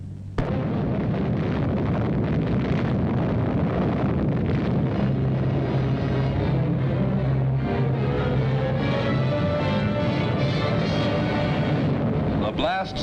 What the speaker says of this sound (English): closer to an atomic explosion than any human being since Hiroshima and Nagasaki